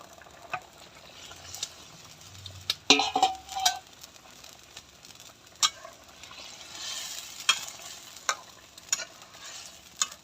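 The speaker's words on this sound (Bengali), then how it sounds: "এবারে ভাজা মাছগুলা দিয়ে দেব।" Fried boal fish goes into a pan and is stirred, giving a steady low sizzle broken by sharp scraping clatters and a few louder knocks of utensil against pan, with no talking.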